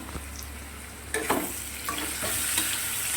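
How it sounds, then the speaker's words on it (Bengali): Soybean chunks cook in a pan without any tempering spices, giving a low steady sizzle that swells partway through as a few stirring scrapes and clinks land nearby; no one speaks. "সোয়াবিন রান্না হচ্ছে।"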